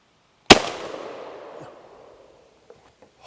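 A single loud shot from a 10 gauge shotgun with a 3.5 inch Magnum TSS load, fired outdoors. It is a sharp blast whose boom decays over about two seconds, followed by faint small noises.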